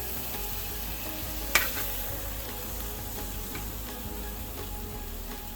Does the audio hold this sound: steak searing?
yes